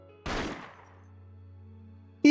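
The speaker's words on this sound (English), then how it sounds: "He fires and the lens of the security camera in the room shatters to pieces, accompanied by the ear-splitting sound of gunfire" Single loud gunshot in Persona 4 Arena Ultimax, fired at a ceiling security camera, a sharp blast with a ringing decay, followed by a sudden high bright tone at the end.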